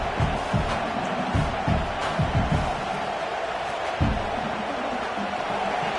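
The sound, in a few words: stadium football crowd roaring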